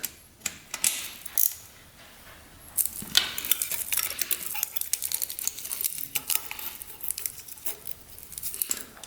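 A ratchet tightening a nut on a 1974 Honda motorcycle, producing close, rapid clicking bursts and metallic rattles in irregular runs, fairly loud, with no talk.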